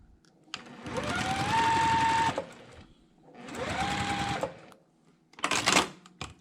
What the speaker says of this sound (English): So I'm going to just sew those 1/4 inch.